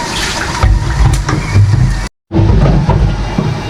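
Water is poured into a pot of rice for porridge at a rural farm home, a rough steady splashing rush that runs for a couple of seconds, breaks off briefly, then resumes close by.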